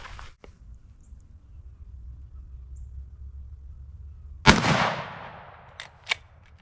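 A single loud crack from a 1964 Winchester Model 94 30-30 lever-action rifle, fired outdoors while deer hunting, followed by a long fading echo and a couple of small clicks, over quiet background rumble.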